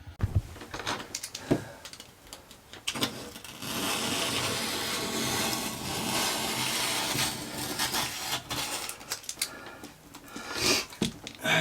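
Old thick caulk being scraped and peeled from a fiberglass RV shower, a close, rough rasping scrape that comes in short strokes and then a long sustained stretch, with scattered knocks between passes.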